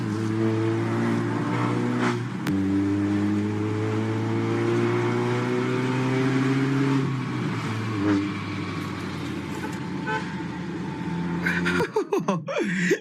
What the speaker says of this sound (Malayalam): എന്റെ സെൽട്ടോസിന്റെ എക്സോസ് നോട്ട് കേട്ടാ